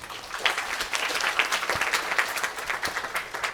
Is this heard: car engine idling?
no